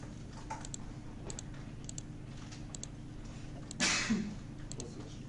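A single sudden sneeze bursts out in a quiet room, surrounded by faint, scattered keyboard clicks and ticks.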